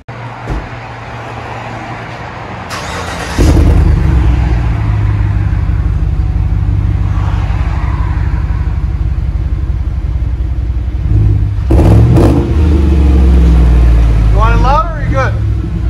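A Chevy Tahoe 5.3L V8 with a straight 3-inch pipe in place of the muffler and a double-wall 4-inch tip roars into a loud, steady rumbling idle and rev that holds for several seconds, with a sharper burst near the end.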